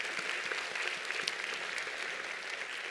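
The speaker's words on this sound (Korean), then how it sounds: "우리 한번 감사와 격려의 박수를 한번 보내드리겠습니다." A church congregation gives warm, even applause to the elders' choir, a continuous patter of many hands clapping throughout.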